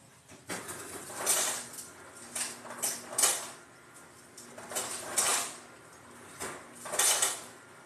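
A spoon clinks and scrapes repeatedly against a cup while honey boba tea is stirred, giving close, irregular bursts of clatter with short pauses between them.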